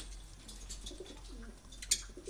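Soft low cooing of several pigeons in a loft rises and falls under a steady background hum, with a brief sharp chirp near the end.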